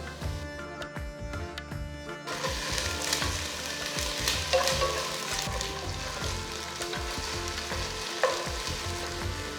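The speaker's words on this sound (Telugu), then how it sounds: "సో నెక్స్ట్ ఇప్పుడు దీంట్లో నేను అల్లం వెల్లుల్లి పేస్ట్ 1 టీ స్పూన్ వేయబోతున్నాను." Ginger garlic paste frying with golden onions in a pan for Telangana bagara rice, a steady close sizzle with repeated utensil stirs and scrapes throughout, no talking.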